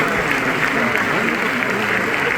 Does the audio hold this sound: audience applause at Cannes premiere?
yes